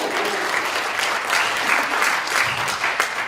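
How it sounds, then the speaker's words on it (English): Brief applause from an audience at a campus safety program, a soft, even patter of many hands clapping at moderate distance. "we can clap for her"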